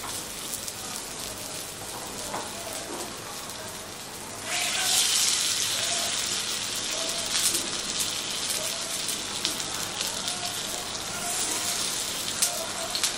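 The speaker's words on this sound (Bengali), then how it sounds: "এবারে আলুর এই যে টিক্কিগুলো বানিয়ে রেখেছিলাম এগুলোকে আমি একটা একটা করে তেলের উপরে দিয়ে দেবো।" Potato tikkis laid one by one into hot oil in a pan, the sizzle jumping up abruptly and then holding as a steady, close crackling hiss.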